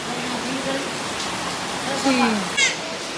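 A sudden heavy rain keeps up a dense, even hiss close by, with voices talking over the downpour.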